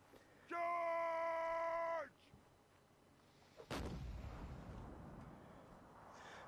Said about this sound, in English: Oh my goodness, what's going on with this cannon?